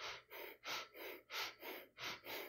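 Heavy, forceful breathing demonstrating an inefficient pattern: about seven loud, rapid breaths, each a rushing gasp of air in or out, in a steady rhythm close to the microphone.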